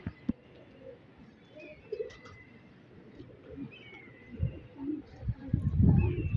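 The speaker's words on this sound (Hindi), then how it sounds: "ये होता है दोस्तों कबूतर" Pigeons coo softly during a pigeon-flying contest in Karachi, low burbling calls that grow fuller and louder toward the end, with faint outdoor murmur and occasional thin background chirps.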